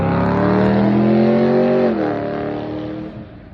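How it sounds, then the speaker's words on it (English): A show-off car revs hard as it passes outdoors, its engine note rising steadily, then dropping in pitch and fading as it moves away, loud and close, with no talk. "every now and then you get a car that wants to show off"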